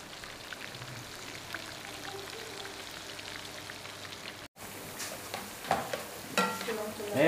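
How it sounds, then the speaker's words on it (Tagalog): Calamares and longganisa fry in hot oil as pancit toppings, giving a steady, dense crackling sizzle, close and fairly loud, with a brief cut midway and sharper spatters and clinks toward the end. "Luluto muna tayo ng pang-toppings natin. Calamares and longganisa."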